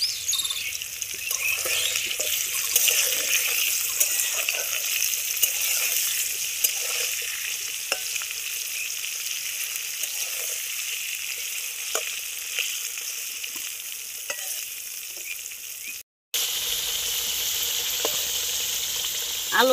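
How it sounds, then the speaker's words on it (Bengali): Potatoes fry in hot oil with a continuous bright sizzle, punctuated by scattered ticks and pops of a spatula stirring the pan, interrupted by one abrupt silent break before the crackle resumes. "আলুগুলো লাল লাল করে ভাজা হয়ে গিয়েছে"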